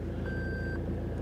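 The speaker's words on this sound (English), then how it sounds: "I don't know if you can hear that beep" A Toyota Hilux N80 4WD pickup gives its 4-low indicator warning as a single clear electronic beep of about half a second, steady and high-pitched over a low engine drone.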